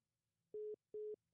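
Telephone line tone heard while calling a Walmart store: two short, steady electronic beeps about half a second apart, clear and alone over a faint hum.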